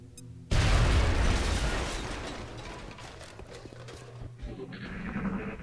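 A grenade blows out a wall in XCOM: Enemy Within: one sudden, loud, close blast that rumbles and slowly fades into debris and low noise, with a faint thump near the end.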